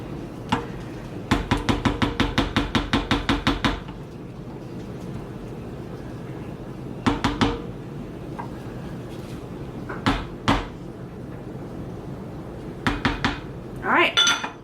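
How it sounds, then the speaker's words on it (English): A utensil stirs a pot of lemon lavender soap batter, scraping and clinking against the pot in quick rhythmic bursts, then in a few shorter scattered strokes after pauses. "So I'm just going to give it a stir"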